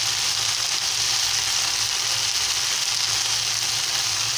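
Okra (bendakaya) frying in a pan, a loud, dense and steady hiss of sizzling oil that runs unbroken from start to end, alone without voices.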